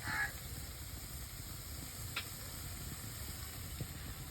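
Low hiss and soft scraping of a spoon working cardamom powder into coconut filling in a warm pan, faint and close, with one brief clink and quiet room noise.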